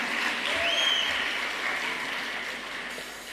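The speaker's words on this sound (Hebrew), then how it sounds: "אני חושבת שבהחלט מגיע להם כפיים סוערות על העבודה" An audience applauds at a space olympiad final, a steady sustained wash of clapping from a crowd that gradually thins toward the end.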